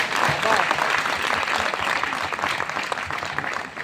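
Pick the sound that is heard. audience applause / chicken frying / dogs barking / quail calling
audience applause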